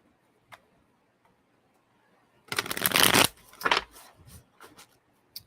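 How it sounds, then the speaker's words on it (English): Playing cards are riffled in one quick burst, then a few softer taps and flicks follow; a faint click precedes it in an otherwise quiet room. "One more shuffle."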